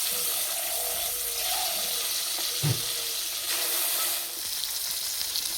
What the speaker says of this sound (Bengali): প্রথমেই মাছ ভেজে নেব।